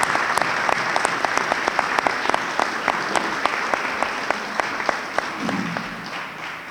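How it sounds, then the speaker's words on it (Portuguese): Sustained applause from an audience at a fire brigade directorate inauguration ceremony in Vieira do Minho, honouring the brigade commander; steady, dense clapping with sharp individual claps standing out, continuing alone throughout. "peço uma grande salva de palmas para o nosso comandante Ricardo Reis"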